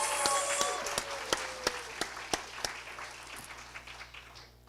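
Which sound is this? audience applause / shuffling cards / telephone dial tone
audience applause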